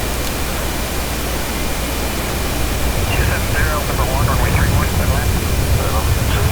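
A jet airliner lands in the airport management game SimAirport, a steady broad roar of engine and rushing air that grows slightly louder midway, with faint murmuring voices underneath.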